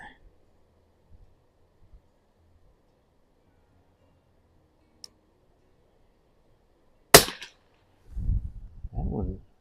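One sharp shot from a TOZ-12 target rifle cracks out alone after a long, near-silent stretch with faint ticks, and a voice follows soon after.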